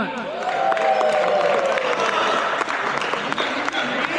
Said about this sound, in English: So a round of applause for the team UNEX